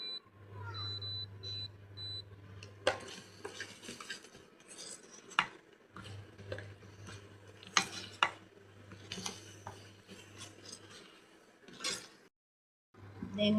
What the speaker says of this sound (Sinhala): අපි ආපහු මේක මික්ස් කරනවා.